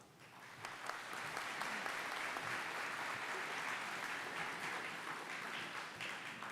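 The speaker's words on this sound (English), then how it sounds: "We applaud you, families, for your support." A crowd at a 2022 nursing pinning ceremony applauds in a dense, steady wash of clapping that swells within the first second and holds at an even level to the end.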